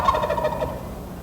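A big wild breeding tom turkey gobbles once, a loud, close, rapid rattling burst that fades out within about a second, with no other sound around it.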